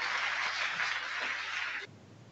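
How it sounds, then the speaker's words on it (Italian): An audience at an evening award ceremony applauds to welcome the mayor, a steady dense wash of clapping that cuts off abruptly near the end. "accogliamo con un naturalmente bel applauso"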